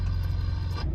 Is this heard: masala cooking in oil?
no